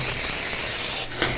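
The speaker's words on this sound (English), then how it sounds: "I will get our spray here." Cooking spray hisses from a can in a kitchen while deer-hunting meals are being made. There is one sustained spray burst of about a second, then a brief pause and a shorter second spritz, close and clear with no talking.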